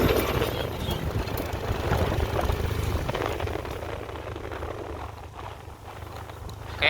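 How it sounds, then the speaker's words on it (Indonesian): A road-working excavator rumbles on a mountain road in West Sumatra, a continuous low engine drone with scraping and clattering texture, moderately loud and steady throughout. "ini juga ada eskavator yang lagi bekerja ini teman-teman"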